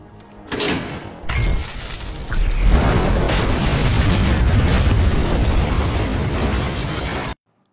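Explosion from the 2013 action film Homefront, a sharp initial bang followed by a second hit and then a huge sustained roaring blast with rumbling debris that cuts off abruptly.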